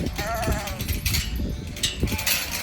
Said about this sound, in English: Let's open the gate and start our morning feeding for the sheep